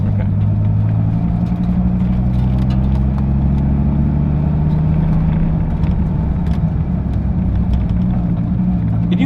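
A Dodge Viper with a manual transmission drives and accelerates, its deep engine rumble loud and steady throughout and rising only slightly as it picks up speed.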